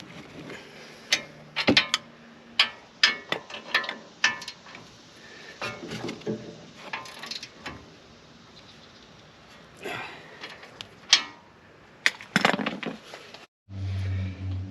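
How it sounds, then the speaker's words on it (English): A wrench tightens the caliper bracket bolts on a 2016 Ford F150 front brake, giving repeated metallic ratcheting clicks and clanks in irregular bursts, close by, with a brief low hum near the end. "I'm going to tighten them"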